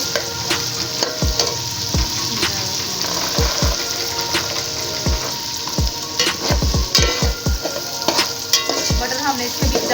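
Peas frying in hot oil with cumin in a pulao pot, a steady loud sizzle broken by repeated sharp clanks of a spoon stirring against the metal, clustered more densely toward the end.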